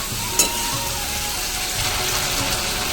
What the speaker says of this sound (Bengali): আলুটা দিয়ে দিয়েছি আলুটা কষাচ্ছি